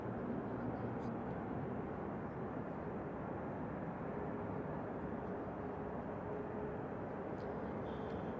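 An Airbus A350-1000 widebody jet at an airport gives off a steady, broad engine roar that holds constant throughout, heard from some distance, with faint talk beneath.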